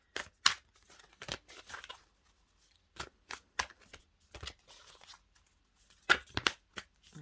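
Several quick bursts of cards riffling and snapping together, with pauses between them, close and fairly quiet with no talking.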